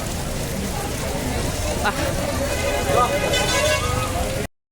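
Constant hiss of rain falling on surfaces at Sigandur Chowdeshwari temple, with faint background voices and a few brief louder patches mixed in.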